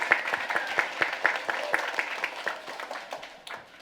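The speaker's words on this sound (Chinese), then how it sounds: "我们再一次热烈的掌声来欢迎他们" A church congregation at a Christmas Sunday service applauding warmly to welcome new friends, steady dense clapping from many hands throughout, with faint voices mixed in.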